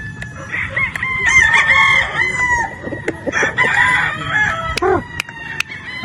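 A straight-comb sweater gamefowl rooster crows repeatedly on a game farm, loud, close crows mixed with clucks from other birds and steady farmyard background noise.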